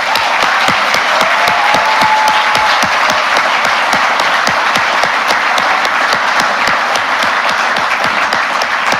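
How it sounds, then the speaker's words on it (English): Sustained, dense applause from a large audience at a college athletic hall of honor induction ceremony, steady and loud throughout with many overlapping claps. "I just wanted one more round of applause for Frank Sebastianski, Dana Verrill, Dick Levitt, Christine Craig, Mercer O'Neill,"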